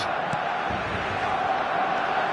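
A stadium crowd at a match roaring and calling out in a sustained, dense wall of voices, steady in level throughout with no individual words standing out.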